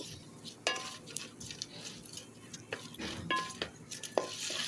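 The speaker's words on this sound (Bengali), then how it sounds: "রসুন আর শুকনো মরিচ শুকনো খোলায় ভেজে নিচ্ছি" Garlic and dried red chilies dry-roasting in an oil-free pan, with quiet, irregular scrapes and clinks of a utensil against metal and faint rustling, low in level throughout.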